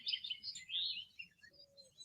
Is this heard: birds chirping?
yes